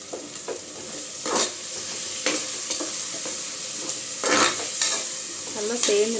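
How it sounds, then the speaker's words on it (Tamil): Biryani masala with ground coriander leaves, mint and green chilli being stirred in a pot, a steady sizzle broken by repeated scraping strokes of a spoon, close and alone. "நல்லா 2 நிமிஷம் கிண்டி விட்டுக்கலாம்."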